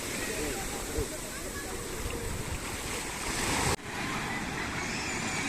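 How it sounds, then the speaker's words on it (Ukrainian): Ocean surf rolls onto the shore at Puerto de Santiago, Tenerife, a constant broad roar of breaking waves with wind buffeting the microphone and people talking nearby. "Тільки що така хвиля була, майже ось тут до нас дійшла."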